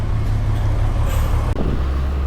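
Heavy evening traffic on a Vientiane street: a dense, continuous rumble of cars, trucks and buses passing close by, with a brief dip near the end, no talk.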